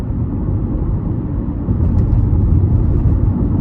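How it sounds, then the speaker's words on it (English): Inside a 2004 Honda CR-V LX on a back road, a steady low tire and road rumble fills the cabin and grows slightly louder partway through, with no one talking. "And road noise isn't terrible."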